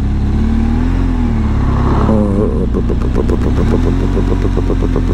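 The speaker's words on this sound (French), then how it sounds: "Il y a une voiture qui vient, j'en ai une au cul." A car engine rumbles loudly nearby, revving and rising in pitch as the vehicle draws closer, with steady road noise throughout.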